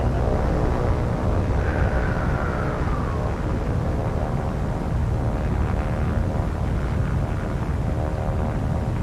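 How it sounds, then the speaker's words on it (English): A float plane goes down in the naval combat game War on the Sea: a steady, loud roar of engine and rushing air with a brief descending whine near the start, continuous and unbroken. "Float plane going down."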